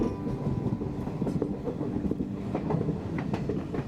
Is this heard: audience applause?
no